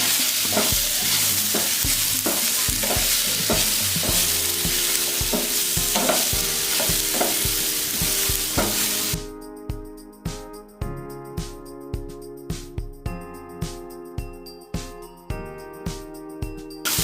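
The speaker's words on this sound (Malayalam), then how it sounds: "ഇനി നന്നായിട്ടൊന്ന് മിക്സ് ചെയ്ത് കൊടുക്കാം" Chopped banana stirred in a frying pan for a Kerala kaya pola dessert, a steady sizzle broken by a run of spoon scrapes and taps against the pan in the second half, close and fairly loud with no talking.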